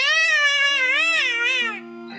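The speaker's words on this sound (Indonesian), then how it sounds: "Kucing ya." A video game cat lets out a long, loud, wavering meow that rises and falls before trailing off, heard alone and close with a low steady hum beneath.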